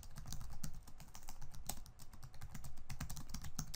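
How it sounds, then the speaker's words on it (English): Computer keyboard typing, as two dashes and a code comment are entered, comes as quick, close, crisp key clicks in an uneven rhythm, quiet and with no talk. "You do it by going to the end of a line and typing 2 dashes followed by your comment."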